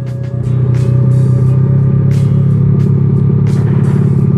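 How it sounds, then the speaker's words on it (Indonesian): A Yamaha Jupiter Z 115cc underbone motorcycle fitted with a CLD racing exhaust idles and revs steadily up close, a loud, continuous deep rumble with a throbbing exhaust note and no speech. "Kalian mau tes knalpot ini ya cuy"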